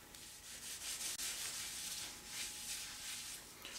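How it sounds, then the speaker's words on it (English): A gray Scotch-Brite pad scrubbing patina off a metal surface, a steady, continuous abrasive rubbing hiss with gentle swells, close and quiet, no voices. "And then you're going to clean it off. Generally, I'll use a Scotch-Brite."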